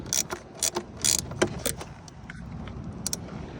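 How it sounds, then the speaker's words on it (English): Metallic clicks and ratcheting taps from tightening the turbo coupler clamp on a BMW F10 535i during a DIY big turbo kit install, in short irregular bursts close by with no talk. "I'm just tightening up the coupler right here that should go to the turbo"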